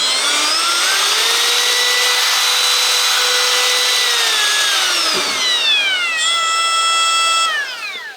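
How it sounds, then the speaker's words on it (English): A Makita XTR01Z brushless cordless compact router runs at high speed with a loud, steady whine whose pitch sweeps down and back up, heard up close with no talking. "So that's the router, brushless, a Makita."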